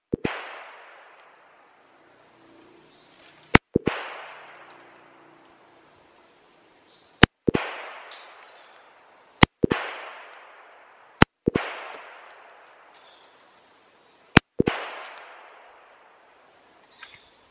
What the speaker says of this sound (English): Ten shots.